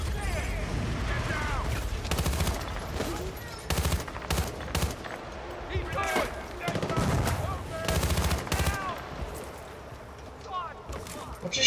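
Rapid bursts of automatic gunfire and single shots crackle through a Battlefield Bad Company 2 combat mission, dense and loud with repeated volleys under ongoing battle noise and someone talking over it.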